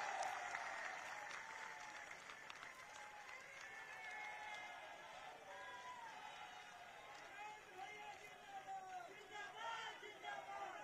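Crowd at an outdoor political rally in Ballia clapping and cheering, a dense continuous wash of applause with shouting voices mixed in, steady throughout at a distance.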